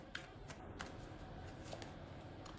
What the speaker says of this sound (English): I'm not looking for the advantageous card here. Just shuffling.